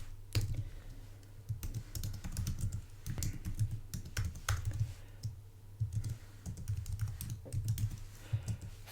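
Rapid, uneven typing on a computer keyboard while CSS media queries are written, with close, crisp key clicks in irregular bursts and short pauses, and no voices.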